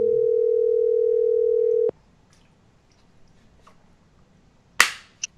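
A steady telephone dial tone after a call hangs up holds for about two seconds, then cuts off abruptly, leaving near silence broken by a couple of sharp clicks.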